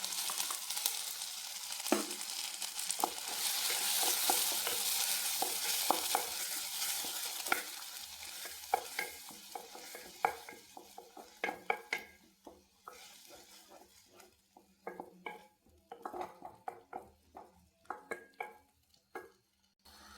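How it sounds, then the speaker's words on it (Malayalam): Ground tomato paste is poured into a hot pan and stirred while frying for tomato rice, a loud sizzling hiss that settles into repeated spoon scrapes and clinks against the pan, close with no talking. "തക്കാളി നമ്മൾ പേസ്റ്റ് കണക്ക് അരച്ച് നമുക്ക് ഇതിനകത്ത് ഒഴിച്ചു കൊടുക്കാം"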